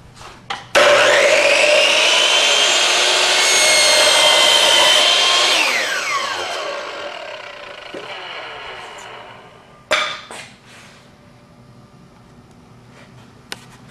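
Hitachi C12FCH miter saw cutting wood: the motor spins up loud and close, whines through the cut for several seconds, then winds down, followed by a sharp knock and a quiet tail.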